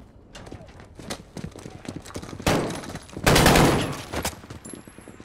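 Bursts of gunfire ring out in Call of Duty: Modern Warfare (2019): scattered single shots early, then a loud sustained volley and a heavy crackling barrage, with a voice speaking in the background.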